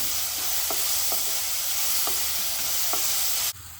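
Chopped ginger and garlic sizzle steadily in a hot pan for mushroom masala, with a few soft stirring scrapes at regular intervals before the sound cuts off abruptly near the end.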